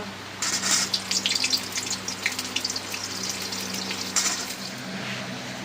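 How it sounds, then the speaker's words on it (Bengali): Cauliflower pieces going into hot oil in a wok: a sudden loud hiss and bubbling that settles into a steady sizzle, then a second surge near the end. "তেল গরম হয়ে গেছে, এবার কড়াইয়ে দিয়ে দেবো ফুলকপি ভাজার জন্য।"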